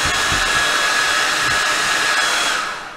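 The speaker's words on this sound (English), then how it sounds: "I think using the blow dryer really helps to loosen it up" Hair dryer blowing hot air onto peel and stick wall tiles to loosen them: a loud, steady close whoosh with a faint whine that fades out at the end.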